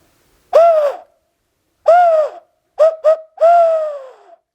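A hand-carved wooden owl whistle gives four hooting calls imitating an owl: two long separate hoots, then two quick short ones and a final long hoot, clear and close in a quiet room.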